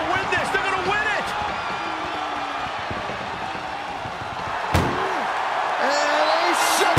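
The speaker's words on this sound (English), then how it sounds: "Pushing with every fiber of their being to slam the door." An ambulance door slams shut once, sharp and loud, during a wrestling match, over steady crowd noise and an excited commentator's talk.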